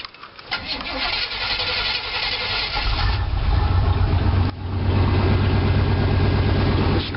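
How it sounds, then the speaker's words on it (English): A fuel-injected Chevy 350 V8 with unknown mileage cold-starts on a foggy morning: a short crank catches, then the engine settles into a loud, steady, rumbling idle close by, with a brief dip midway. "The squeaking you hear is the belt."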